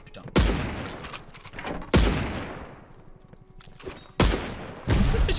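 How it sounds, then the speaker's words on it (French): Several sharp, heavy blasts in a shooter video game, each a sudden loud boom trailing into a long decay, spaced about two seconds apart, with a grenade among them. "J'ai lancé une grenade"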